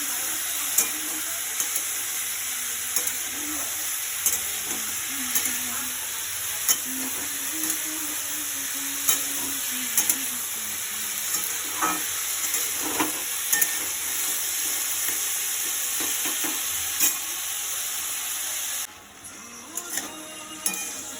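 Potatoes for aloo posto sizzle and fry in a pan while being stirred, with steady hissing and occasional scraping clicks of the spoon throughout, close and continuous, no voices.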